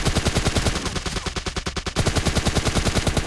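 Rapid automatic gunfire in the PUBG Lite battle royale game, a loud, steady stream of closely spaced shots, close and continuous throughout with a slight pause midway.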